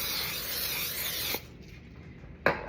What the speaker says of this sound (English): Okay, I use simple canola spray,